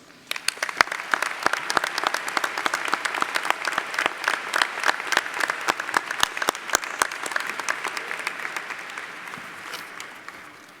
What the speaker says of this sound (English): Please join me as we applaud their support of and dedication to the success of our students.